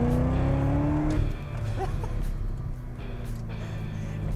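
A Corvette ZR1, rear-wheel drive with a front engine, revs hard in first gear, its engine note climbing sharply before a shift, then pulling again with a strong, close, continuous roar.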